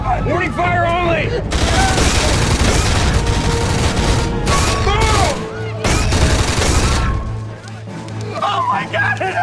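Bursts of gunfire from a science-fiction action scene, loud rapid volleys of shots mixed with shouting voices and crowd commotion, coming in waves with brief lulls.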